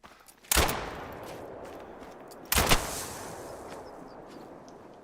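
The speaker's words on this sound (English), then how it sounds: "Didn't know you could shoot these guys on the ground." Two sharp, loud gunshots ring out about two seconds apart while hunting grouse on the ground in a video game, each followed by a fading echo over quiet background ambience.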